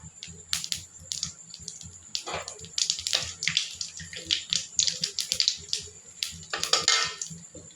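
Washed rice and lentils pour into a pot of hot oil spiced with cumin, bay leaf and garam masala, giving a series of splashy, clattering bursts that come and go over several seconds, close and fairly loud.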